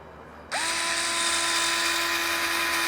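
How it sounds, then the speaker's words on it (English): Power drill boring a hole through two clamped wooden pieces starts abruptly and spins up into a steady high whine that holds to the end, close and clear. "We're going to drill a hole directly through both pieces."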